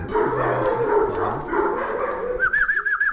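A Kangal dog whimpers and yips, ending in a short run of high, wavering whines, with low rumbling noise in the background.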